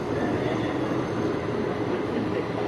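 The Howrah-Haridwar Doon Express train rolling into a station, a steady loud rumbling wash of wheels and carriages that fills the whole moment.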